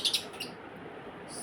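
Pet lovebirds chirping indoors, a few quick high tweets at the start followed by faint, soft background noise.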